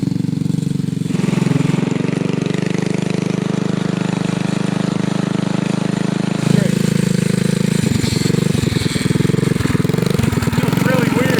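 A motorized bicycle's small gas engine, mounted reversed on a big-tire bike, runs steadily and loud throughout, with a sharp change in pitch midway and rattling surges near the end.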